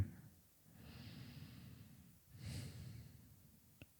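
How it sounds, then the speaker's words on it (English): Slow ujjayi yoga breaths taken while holding a bridge or wheel pose in an Ashtanga session, heard as long, soft, hissing inhales and exhales close to the microphone, with no talking. "Ujjayi breaths for 5."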